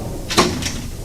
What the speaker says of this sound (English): Just that 3rd drawer down there.